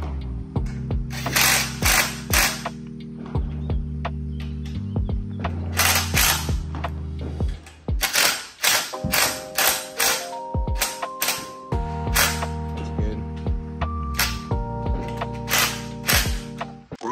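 A ratchet clicks in repeated bursts while tightening a bolt during a Predator 212cc engine install on a 2005 Baja Warrior minibike, close up with rapid pawl ticks and short pauses between strokes.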